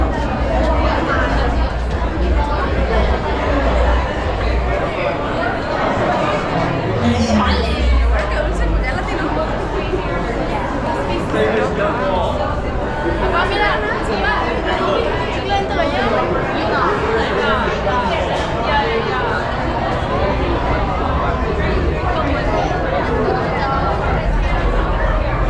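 Dense crowd chatter fills Seattle's Pike Place Market, a steady babble of many overlapping voices with footsteps and bustle, close and loud for the whole stretch.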